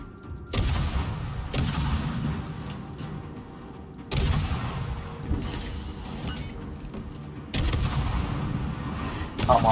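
Booming naval gunfire from a video game warship firing armor-piercing shells, several heavy salvos a few seconds apart, each a loud sharp blast trailing into a long rumbling decay, with faint voices in the background.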